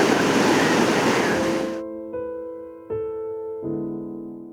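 Waves of the East Sea wash and roar loudly against the shore for under two seconds, then stop abruptly and give way to a few spaced, ringing tones.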